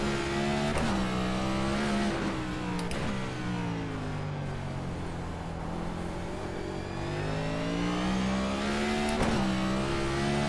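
A NASCAR Cup race car in the iRacing simulator on the Chicago street course roars loud and close throughout, its engine revving up and down through corners with sharp downshift blips and steadily climbing pitch on the straights.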